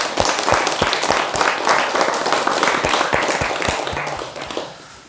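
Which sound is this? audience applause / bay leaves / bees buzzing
audience applause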